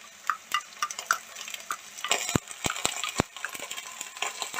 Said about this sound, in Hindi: अब मैं इस पे जिंजर गार्लिक का पेस्ट डालूंगा।